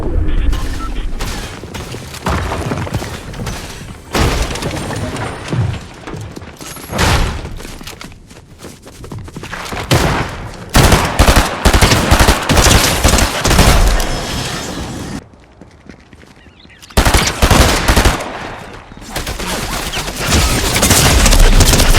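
Bursts of rapid gunfire and booms from a first-person shooter video game, loud and close, coming in repeated long volleys separated by brief lulls.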